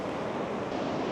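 Ocean water washing in over a shoreline at sunrise, a steady broadband rush of surf close by with some wind noise, no voices.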